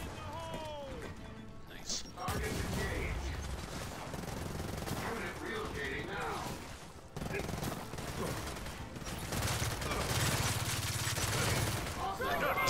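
Gunfire and combat in Gears of War 4 co-op: dense, loud volleys of shots and impacts nearly fill the stretch, with a brief lull near the start and another just past the midpoint.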